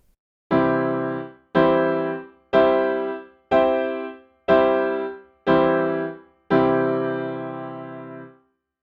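Seven full, rich piano chords struck with both hands one after another at an even pace, each ringing briefly before the next; the last one is held longer.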